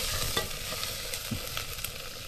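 Chicken sautéing in a hot pan, a steady sizzle and fry with occasional scrapes and stirring knocks, close and continuous with no talk.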